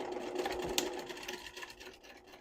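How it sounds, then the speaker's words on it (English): A sewing machine runs steadily, stitching across the side seams of a fabric hair-tools travel case. It makes a continuous close mechanical whir with a quick rhythmic needle patter and no voices. "And now we're going to sew across these two side seams."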